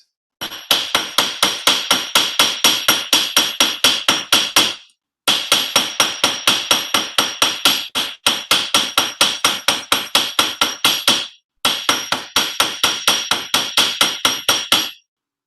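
Rapid, evenly spaced hammer blows ring on folded sheet metal during fold forming, in several long bursts, each strike bright and metallic, separated by short pauses.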